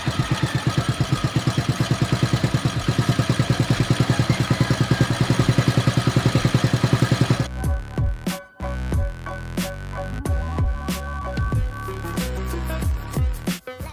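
A motorcycle engine idles with a steady rapid putter for several seconds after an oil change, then the sound turns choppy and irregular with clanks and bursts.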